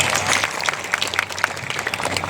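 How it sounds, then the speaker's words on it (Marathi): A crowd at a Pingla performance in Bhandup claps hard, a dense burst of overlapping handclaps that stays close and steady for a couple of seconds. "महाराजांकरता विकासराव करता जोरदार टाळी वाजवतात"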